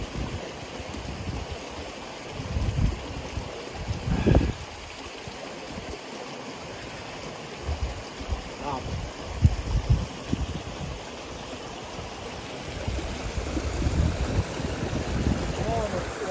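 Mountain spring water flowing on a climb toward Retezat peak, a continuous close babbling rush with occasional splashes, while people talk over it at times.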